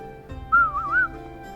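High-pitched vocal imitation of a whistling sound, like a faint breeze whistle, as a single wavering tone that rises and falls for about half a second, close and clear over quiet background.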